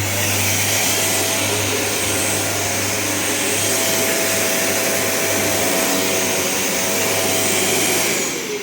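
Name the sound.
Hoover vacuum cleaner running after cable repair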